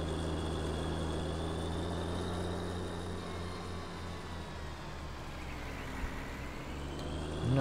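Tractor engine in Farming Simulator 19 pulling a cultivator across a field, a steady low droning hum with a faint rising whine, continuous and moderately loud with no voices.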